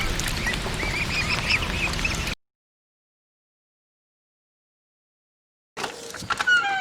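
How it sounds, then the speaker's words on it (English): A pet duck quacks at feeding time with sweet corn, a burst of close, harsh calls for about two seconds, then silence, then a few more sharp calls at the end. "Gonna feed my duck sweet, whole kernels, naturally sweet corn."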